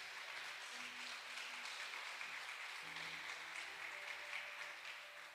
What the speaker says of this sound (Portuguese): Aplauda Jesus pela vida do Maico.